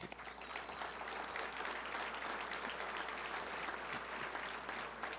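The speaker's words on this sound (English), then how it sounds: "Give them a round of applause." A crowd at an awards banquet claps steadily for several seconds, a dense, continuous patter of applause in a room.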